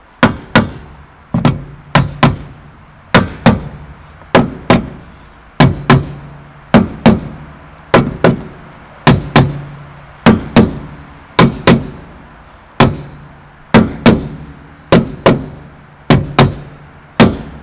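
Repeated sharp metallic knocks, about one per second, as a spinner nut is hammered tight on a Shelby Cobra wire wheel, each hit ringing briefly with no talk.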